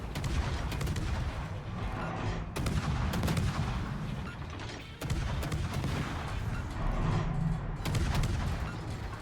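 Naval secondary batteries firing in the World of Warships game, dense overlapping booms and rapid gunfire rumbling continuously, with heavier blasts standing out every couple of seconds, loud and busy.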